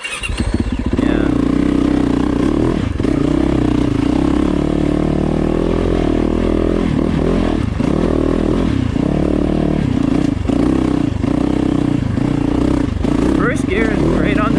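A Yamaha YZ450FX dirt bike rides at Lake Arrowhead, its engine droning loud and close with repeated rises and dips in revs over rough ground, and clattering bursts near the end.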